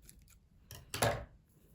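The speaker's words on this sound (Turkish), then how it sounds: "İpimi burada kesiyorum." Scissors snip through yarn during crochet work on a knit cardigan, a single soft close cut heard alone after some faint handling noise.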